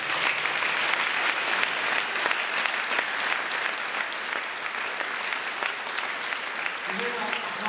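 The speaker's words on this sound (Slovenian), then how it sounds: "Spontan aplavz." A crowd claps steadily at the opening ceremony of the Idrija Lace Festival, with continuous dense applause that fades slightly near the end as a voice begins speaking.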